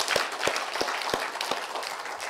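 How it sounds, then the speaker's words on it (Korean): Church congregation applauding during a Sunday sermon, a broad wash of clapping with several distinct louder claps at a steady beat, moderately near. "박수 한번 합시다."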